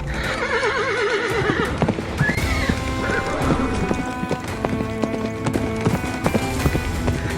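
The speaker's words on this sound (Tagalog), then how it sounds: "sakay ng kabayo ay umalis na nga si Nakaela" A horse whinnies loudly near the start, then hooves clip-clop in a steady rhythm as it moves off, with layered background music.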